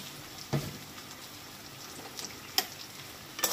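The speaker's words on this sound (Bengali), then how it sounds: "এবার এই সব মশলাটা একসাথে খুব ভালো করে কষিয়ে নেব" Spices with a little sugar are sautéed in a pan for a curry, giving a faint, steady low sizzle with a few sharp clinks and scrapes of the stirring spoon.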